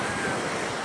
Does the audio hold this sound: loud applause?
no